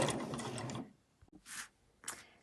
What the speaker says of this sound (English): I'm just sewing along the crease line there